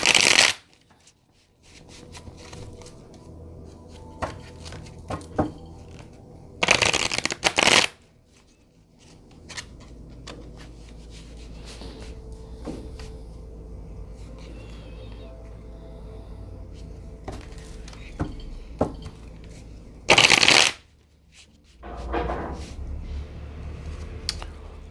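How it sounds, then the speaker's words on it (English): Tarot cards are riffled and shuffled in several loud, quick bursts, separated by stretches of quieter handling and faint background noise. "Let me just give it a shuffle this way,"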